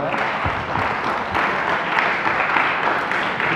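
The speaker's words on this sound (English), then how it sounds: "So we'll give a good round of applause" A lecture audience at a medical education class gives a sustained round of applause, a thick, even wash of clapping that runs from start to finish.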